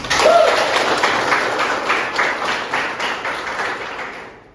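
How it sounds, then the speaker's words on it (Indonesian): Students in a classroom give a dense, steady burst of applause that stays loud for several seconds, then fades quickly. "Tepuk tangan dong"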